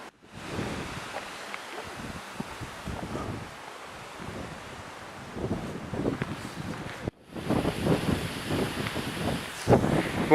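Strong wind buffets the microphone on a coastal path on Bréhat island, rumbling in uneven gusts with rustling and a roar that swells louder toward the end after a brief cutout.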